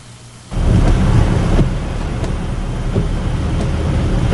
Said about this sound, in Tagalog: Matinding buhos ng ulan ang naranasan ng Metro Manila